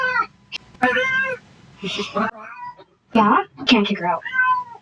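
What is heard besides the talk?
cat meowing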